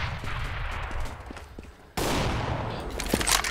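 Rapid gunfire from a Counter-Strike: Global Offensive cup match, heard as bursts of shots that jump suddenly louder partway through, with no talk.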